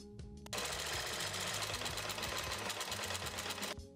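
Starting after a brief pause, a sewing machine runs a continuous loud stitch around the folded top edge of a tote bag, its fast steady mechanical whir close by and lasting several seconds before stopping.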